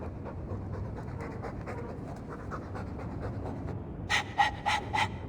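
Dragon Age 2 game dog panting up close in quick, steady breaths, ending in a few sharper, louder huffs.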